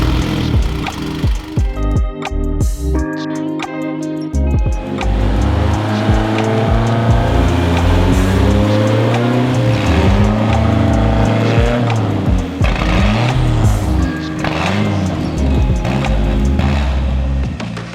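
A turbocharged mid-engine Mitsubishi Eclipse drives loud and close, its engine climbing and falling through the gears with sweeping revs, a brief tire squeal, and steady road roar throughout, with no talking.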